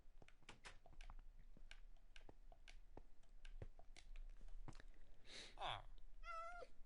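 A cat in Minecraft meows a couple of times near the end, short distinct cries following a run of scattered clicks and taps.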